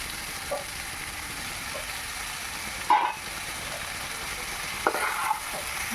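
Chopped pieces of goat fat fry in a pan with a constant, even sizzle, broken by a few scraping stirs of a utensil, heard close and alone without talk.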